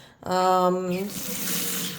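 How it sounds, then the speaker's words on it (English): Cold water gushes from a sink tap, a steady close hiss and splash beginning after a brief squeak of the handle. "This is the cold water."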